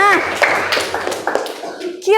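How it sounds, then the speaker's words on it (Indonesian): A class of young schoolchildren claps hands in a classroom, giving a short burst of sharp, uneven claps under loud overlapping talk. "Tepuk tangan lagi untuk kelas 4B ya"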